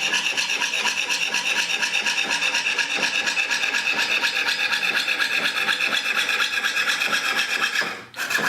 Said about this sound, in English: you move the blade back up and down the same way you would whenever you're sawing forward